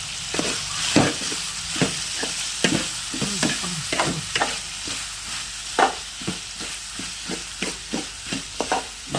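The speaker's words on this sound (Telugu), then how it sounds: "బాగా వేపిస్తున్నాం ఆగోదు." Onions, green chillies and tomatoes frying for uggani, a steady sizzle with frequent spoon scrapes and stirring knocks against the pan, close and continuous throughout.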